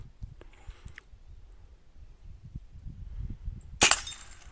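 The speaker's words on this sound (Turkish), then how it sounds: "Şu bence yeşil şişeyi vuralım. Bence yeşil şişeyi bir ortadan kaldır bence." Hatsan Mod 125 air rifle shot shattering a green glass bottle, a single sharp crack and burst of breaking glass near the end after quiet low rumbling outdoors.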